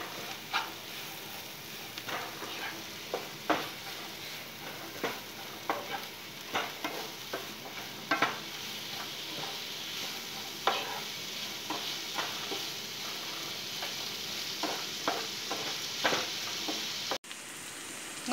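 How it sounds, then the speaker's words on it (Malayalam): Salt is stirred into mango and carrot pickle in a pan, giving soft repeated scrapes and taps of a spoon against the pan over a faint steady sizzle, with no talking. "ഇപ്പം നന്നായിട്ട് അതൊന്ന് മിക്സ് ചെയ്യാം."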